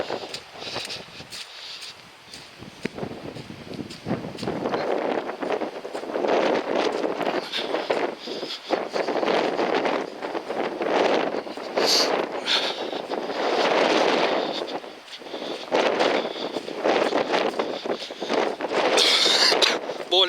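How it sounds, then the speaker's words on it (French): Strong wind roars across the Brittany coast, buffeting the microphone in heavy, uneven gusts that swell and drop for the whole stretch, with rough rumbling throughout. "le vent est assez fort"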